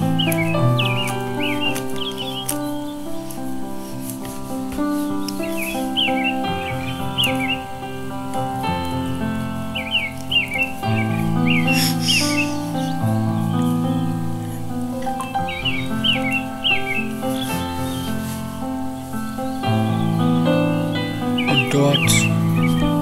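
Small birds chirp and sing in short, repeated high bursts over soft, sustained relaxation music that carries through the whole stretch.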